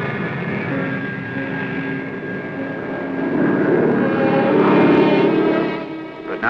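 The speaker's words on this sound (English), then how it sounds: "The plane was seen briefly as it approached the landing strip." A Navy P-2V aircraft approaches a landing strip in Antarctica, its engine drone steady and continuous, swelling louder midway as it draws nearer, then easing slightly at the end, with no voices.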